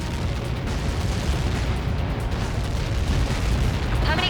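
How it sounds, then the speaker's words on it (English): Large explosion in the Ace Combat 7 video game, a dense sustained rumbling roar with crackling bursts, loud and close throughout with no talk over it. "How many got caught in that explosion?"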